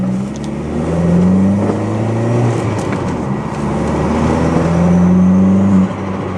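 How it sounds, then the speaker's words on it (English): A Mk4 Jetta with a 2.0 turbo engine drones loudly from inside the cabin, its engine note rising and falling, with a fluttering turbo sound as the throttle lifts near the end. "Oh, dude, the turbo flutter's so good."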